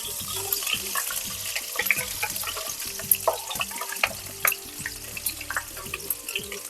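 Crushed ginger and garlic hit a hot pan for killi potta sambar, giving a steady close sizzle with scattered sharp crackles and a few stirring clinks and knocks throughout.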